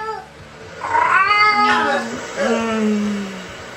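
A cat in a video game meows and caterwauls loudly and up close, two drawn-out rising and falling yowls, the first longer and more strained than the second.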